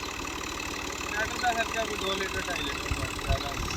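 A Fiat 480 power-steering tractor engine running a reaper idles with a low, rhythmic chugging throughout, while people talk over it.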